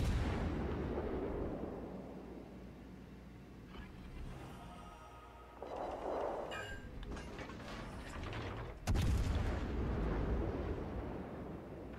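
Heavy warship gunfire in the World of Warships Legends naval battle game: low, booming salvos with a big blast near the middle and another near the end, set against a rumbling background with no talk.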